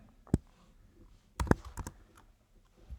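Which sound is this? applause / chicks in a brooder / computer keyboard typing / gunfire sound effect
computer keyboard typing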